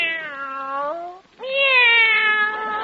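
Cats meow in two drawn-out, clear cries separated by a brief pause, the second louder and longer, close and prominent with no talking over them.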